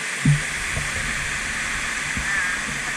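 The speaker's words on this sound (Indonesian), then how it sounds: "mirror pool air terjun kaca" At Mirror Pool in Tai Po, Hong Kong, the waterfall gives a loud, steady, close rushing roar that fills the whole stretch, with a few soft low thuds beneath it.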